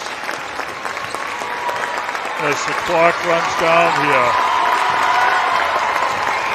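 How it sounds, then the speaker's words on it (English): Parents in a high school gym applaud and cheer for the girls basketball teams of North Quincy and Medfield as the clock runs down, a steady wash of clapping and shouts under a commentator's voice. "North Quincy parents are getting up and cheering on the girls"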